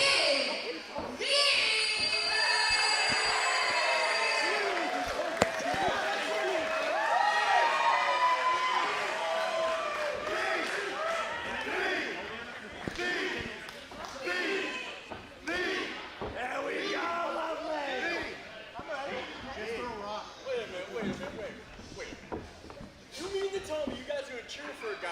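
Wrestling crowd at a Focus Pro Wrestling show cheering and shouting for Kid V, a steady loud roar of voices with yells, under a ring announcer's talk.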